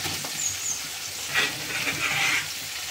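A spoon stirring carrots, green chillies and tomato pieces in a hot pan for egg biryani, a soft sizzle with a few brief scraping strokes, close and fairly quiet.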